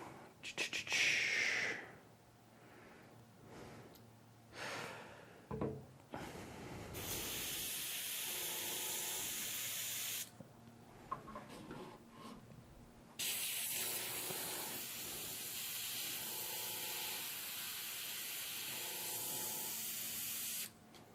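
An airbrush sprays paint onto Star Wars: Legion swoop bike rider miniatures in long steady hissing bursts, stopping and restarting several times, close and fairly loud with no talking.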